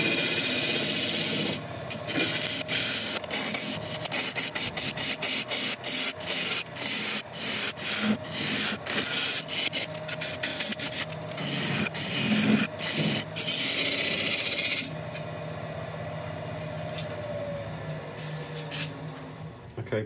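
Woodturning pull cuts on a greenheart and purpleheart mallet, a rapid series of close, rasping scrapes from the gouge against the spinning wood, with a lathe hum underneath that continues after the cutting stops.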